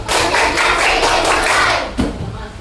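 In an Indonesian classroom, a group of children plays the rhythmic clapping game tepuk konsentrasi, their hands striking together loudly and close in a brisk, dense burst, with one sharp accent near the end.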